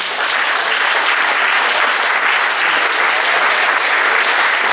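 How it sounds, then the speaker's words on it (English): An audience at a recognition banquet bursts into loud, dense applause, a sustained wash of clapping from a large crowd that holds steady from start to finish. "To one more big round of applause."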